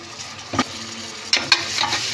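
Coriander and mint leaves sautéing for a Bombay mutton curry, a low steady sizzle broken by a few scraping stirs of the spoon in the pan.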